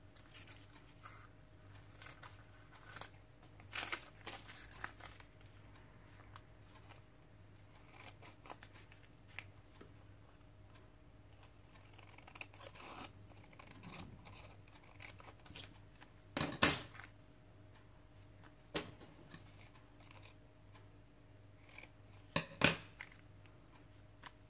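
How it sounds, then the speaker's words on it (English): Scissors snipping through a piece of paper for an art journal page, several sharp crisp cuts scattered over a quiet background, close and fairly soft, with two louder snips near the end. "So I'm going to cut a piece out of it."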